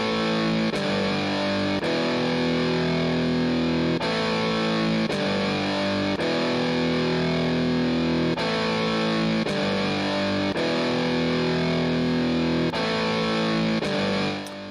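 Heavily distorted punk metal music from the pUnKGeN app on iOS plays loud and continuous, with driving chugging guitar tones and regular drum hits in a steady rhythm.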